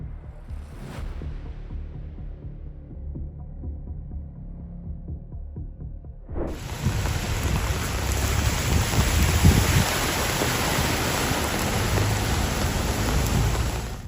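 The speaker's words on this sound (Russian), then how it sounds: "Мощный ливень с грозами обрушился на город, превратив центральные улицы в озера и вызвав хаос на дорогах." Heavy thunderstorm downpour over Istanbul: after a quieter, muffled opening, a dense, loud roar of rain sets in abruptly and continues steadily to the end, with no distinct thunderclap standing out.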